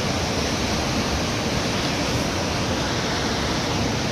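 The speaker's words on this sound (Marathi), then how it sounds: "आज पाण्याचा प्रेशर बघा किती येते" Kondeshwar waterfall near Badlapur pours with strong water pressure, a steady, loud, unbroken roar of rushing water with no other sounds.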